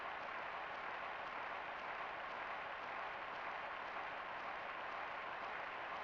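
A crowd applauds in David Crane's Amazing Tennis on the SNES, an unbroken hissing wash of clapping that stays level and fairly faint throughout.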